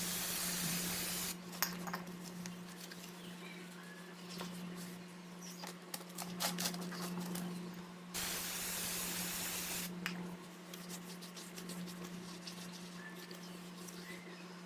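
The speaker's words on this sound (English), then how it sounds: "So I'll just use a clean rag and some brake cleaner and clean these up real quick." Brake cleaner is sprayed onto new brake rotors in two long hissing bursts, each several seconds long, close by over a steady background hum, with small taps and rustles in between.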